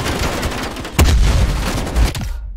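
A grenade goes off in Call of Duty Black Ops Cold War: a sharp, loud blast about a second in, set among continuous battle noise and a second thump shortly after.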